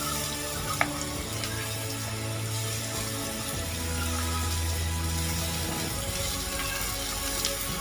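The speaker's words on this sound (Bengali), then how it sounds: "আমি চাল কুমড়োটা ছেড়ে দিলাম, কুচিয়ে রেখেছিলাম, চাল কুমড়োটা দিয়ে দিলাম" Chopped ash gourd sizzling in a hot pan for sukto, a steady close frying hiss with low humming tones underneath and a brief clink, no talking.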